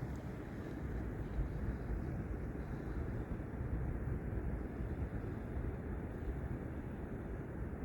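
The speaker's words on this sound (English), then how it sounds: "Hear the water just lapping up now." Steady low rumbling wash of water lapping against the beach at New Brighton on a winter night, with a constant wind-like roar underneath and no voices.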